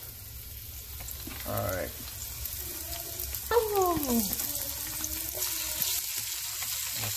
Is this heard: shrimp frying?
yes